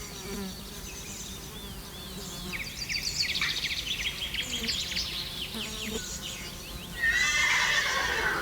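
A horse whinnies in several high, wavering neighs over a constant buzzing of insects, followed by a louder, rising neigh near the end.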